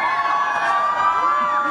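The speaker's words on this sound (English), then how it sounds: "round of applause out that you wanted to get for Virat." A Mumbai watch-launch audience cheers and whoops for cricket captain Virat Kohli, a short, dense burst of high-pitched crowd shouts close by.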